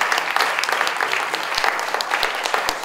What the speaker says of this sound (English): Please give a round of applause to